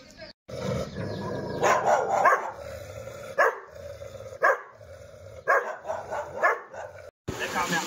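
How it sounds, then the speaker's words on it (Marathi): Dogs bark in Malkhed village: a string of sharp, close barks in uneven bursts, with short pauses between them. "कुत्रे वगैरे आहेत"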